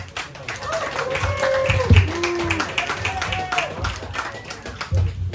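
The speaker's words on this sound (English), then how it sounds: "Make some noise for Stefan." A comedy club audience at a stand-up show claps and cheers for the next comic, a moderate burst of applause with whoops. Someone speaks loudly over it partway through.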